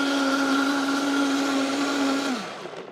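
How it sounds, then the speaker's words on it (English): A high-powered blender whirs loudly and steadily while pureeing cashews for vegan strawberry ice cream, a constant motor whine that winds down near the end, with no speech. "I'm just gonna put it on the blender and get things going."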